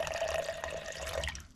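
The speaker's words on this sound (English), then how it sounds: "So the proper way to do it is just to pour the water." Water poured for tea at a camp in the wild in South Africa, a short steady trickling splash lasting under two seconds before cutting off.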